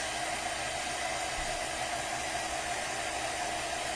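A heat tool blows steadily on embossing powder for a Christmas card, a constant close airy whir with a faint tonal hum and no voices.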